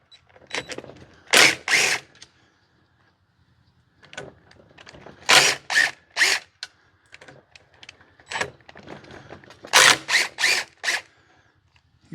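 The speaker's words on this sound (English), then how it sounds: "the impact that it creates, the actual shock, helps break free the hardware" An impact wrench loosens corroded bolts on a car's cooling system during a coolant leak repair, firing in short, sharp rattling bursts separated by quiet pauses, close and loud, with a few clanks of hardware between.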